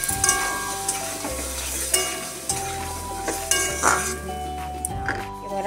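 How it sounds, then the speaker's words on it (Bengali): Vegetables sautéing with ginger and green chilli paste and spices, with continuous sizzling, frequent clinks and scrapes of stirring up close, and background music underneath. "এখানে সবজিগুলো লাল লাল করে মশলাগুলো আমি দিয়ে একটু কষিয়ে নেব।"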